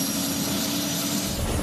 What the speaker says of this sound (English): if you really want a great view, you got to take it to the skies on a helicopter tour.